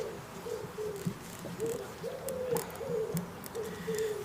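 A pigeon coos repeatedly outdoors, soft rhythmic hooting calls close by, about seven phrases in four seconds, with faint background noise and no talking.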